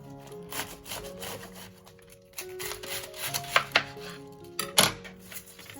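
A knife chops a large cabbage into wide pieces on a wooden board, giving uneven crunchy cuts and scrapes that pick up into several loud, sharp chops near the end, with the crisp tearing sound of the leaves.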